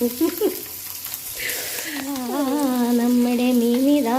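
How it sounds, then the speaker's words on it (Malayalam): Sardines fry in a pan with a soft sizzle under a sustained, wavering voice-like tone in the latter half, preceded by brief clatter. "ഫ്രൈ ആയി വരുന്നു"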